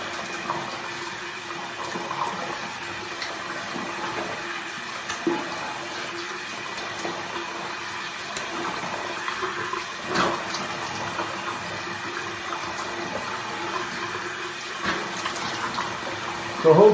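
A tap runs steadily while someone rinses off after shaving, a soft continuous hiss of water with faint splashes and occasional small knocks throughout.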